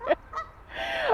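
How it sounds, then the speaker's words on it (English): Loud Canada geese honk outdoors in a quick run of two or three harsh, nasal calls, close and clear with no talking over them. "now we've got some really loud Canadian geese here"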